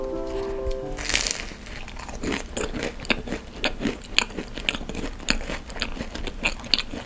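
Biting into a buttery, crispy tart crust: a loud crunch at the start followed by repeated close crackling chews and small crumbly crunches, with a brief voice before the first bite.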